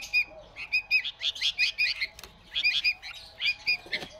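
Young Kashmiri bulbul chicks chirp in quick, repeated bursts of high, thin calls, fairly close and alternating with short pauses over a quiet background.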